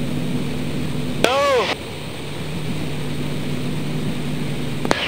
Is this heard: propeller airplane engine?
yes